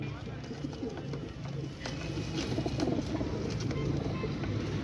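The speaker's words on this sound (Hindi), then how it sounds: "ये इतने क्वांटिटी में कबूतर दिखा रहा हूँ" A flock of Ustad Imam Deen line pigeons coos in repeated soft, throaty rolls, several birds overlapping close by over a low steady background hum, with a faint passing car.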